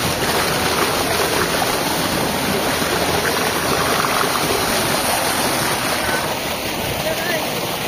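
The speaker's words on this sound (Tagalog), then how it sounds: "Kamusta ba, sir, yung tulo ng tubig? Malakas." Water pours strongly from a solar-powered pump at an installation in Candelaria, Quezon, a loud, steady, broadband rush that stays constant throughout with no clear breaks.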